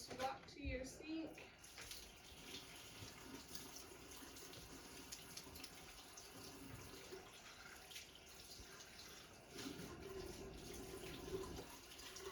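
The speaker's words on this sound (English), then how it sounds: "I need to go wash my hands" A tap runs at a sink for hand washing, giving a steady, fairly faint stream of water throughout, with some handling noises near the start.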